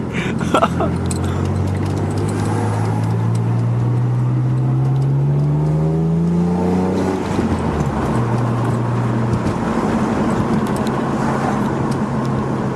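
A Lexus SC300 driving slowly around the block, its engine note rising steadily as it accelerates, then settling into a smooth cruise with road noise, close and continuous with no talk.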